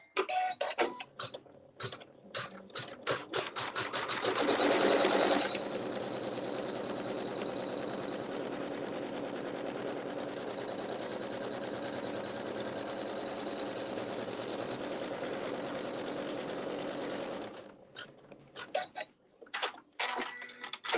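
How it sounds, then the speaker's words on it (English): An embroidery sewing machine tacks down appliqué fabric and sews placement stitches, opening with scattered ticks and clicks before settling into a long, steady, rapid mechanical whirring run that stops abruptly, followed by more clicks. "We're going to tack down our fabric. And this step will also sew some placement stitches for applique."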